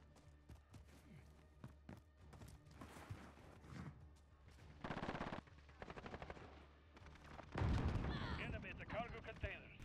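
Rapid automatic gunfire crackles in a Call of Duty Modern Warfare team deathmatch, with bursts of machine-gun fire, scattered single shots and a heavy explosion-like blast near the end, loud and close.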